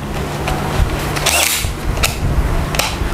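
A DeWalt DCD999 cordless drill driver runs continuously, a loud close motor whine with a steady hum and some clattering handling noise, without speech.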